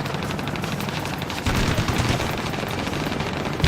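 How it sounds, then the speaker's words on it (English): Aircraft guns fire in an Ace Combat Assault Horizon combat sequence: a sustained, rapid rattle of gunfire that swells louder around midway and ends on a heavier burst. "Fire guns."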